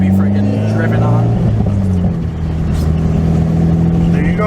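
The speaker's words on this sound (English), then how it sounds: "Car's running and driving good." A Mitsubishi Evo X GSR engine runs and drives, a loud continuous steady hum with slight pitch shifts, heard close and constant, while people talk over it.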